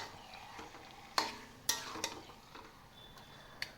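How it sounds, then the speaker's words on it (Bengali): Taro leaves cook in a pan while a utensil stirs them, producing a soft low sizzle punctuated by a few sharp scraping knocks against the pan, fairly quiet with no voices. "তো এইবার কিছুক্ষণ নাড়াচাড়া করলেই কিন্তু আমার কচু শাক হয়ে যাবে"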